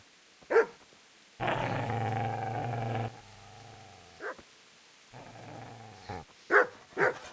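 A dog growls and barks at the player in the medieval role-playing game Kingdom Come: Deliverance: two sustained low growls alongside sharp barks, loud and close, with no talk.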